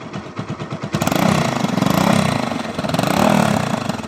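A Bajaj Pulsar NS 200 motorcycle with its exhaust silencer holes opened idles with a choppy putter, then revs up into a loud, raspy, throbbing roar that rises and falls close by.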